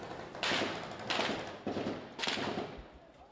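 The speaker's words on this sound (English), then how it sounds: "every time we try, gunfire drives us back" Four sharp gunshot bursts from real combat during an ISIS attack in Iraq, at roughly even intervals, echoing and somewhat distant, with rumbling noise between them.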